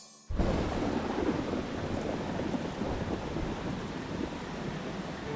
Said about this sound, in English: But it's raining so heavily today.